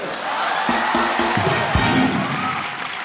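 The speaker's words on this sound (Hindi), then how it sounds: "ठोको ताली" A studio comedy-show audience claps and cheers, a steady crowd roar with whoops layered over it, while a few sharp musical stabs punch through early on.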